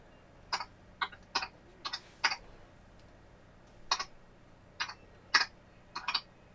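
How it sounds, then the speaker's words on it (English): Irregular bursts of clicking keystrokes on a computer keyboard, quiet and close, arriving in short clusters of two or three taps with pauses between, with no voices. "Is that you typing on a keyboard or him on your end?"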